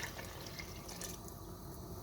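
Water runs steadily into a pan for cooking peas rice, a continuous close splashing flow with no pauses and no talk.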